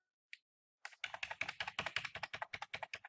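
Keys on a computer keyboard clack in a quick, steady run of close, crisp presses after a couple of isolated taps, with no talking.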